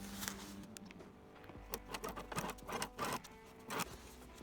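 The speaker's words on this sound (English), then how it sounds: "And I want to sew as close to this edge as I can." Sewing machine stitching close to the edge of overlapped fabric for an elastic dress waistband, a soft close mechanical whir with quick rhythmic ticking bursts, fairly quiet and without talking.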